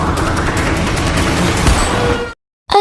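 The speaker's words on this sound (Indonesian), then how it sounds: "Seba memperingatkan ketiganya dengan tembakan" A burst of rapid gunfire from an Indian film's action scene, loud and continuous for about two seconds before cutting to silence, then a brief restart.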